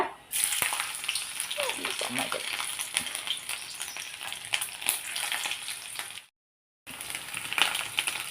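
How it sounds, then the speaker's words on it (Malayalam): Mustard seeds splutter in hot oil while a date and lemon pickle is being made, giving dense crackling pops over a steady sizzle, close and continuous, broken by a short silence near the end. "കടുക് പൊട്ടുന്നുണ്ട്"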